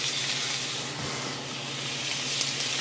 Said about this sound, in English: Cooking a little bit of peanut oil, not a lot, because we're simply searing the fish